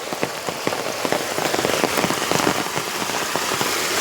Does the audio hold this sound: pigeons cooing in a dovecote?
no